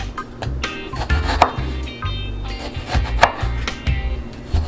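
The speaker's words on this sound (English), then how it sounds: "And then we're just gonna do nice slices." A knife slices through food onto a cutting board while cooking Jamaican curry chicken, giving steady, close, firm chopping knocks in an even rhythm with no talk.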